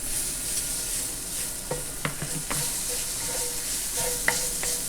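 Tomato paste fries in a pan alongside seared steak bits, with a soft continuous sizzle and several sharp scrapes and taps from stirring, close and quiet without talk.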